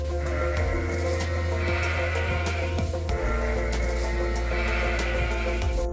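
Sheep bleat repeatedly on a farm, a few loud, drawn-out calls standing out against a dense, constant background of flock and farm noise.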